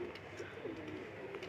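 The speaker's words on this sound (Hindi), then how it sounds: "कबूतर और भी आ रहे हैं" Pigeons coo softly in a brief, low, murmuring burst, heard faintly against quiet background noise.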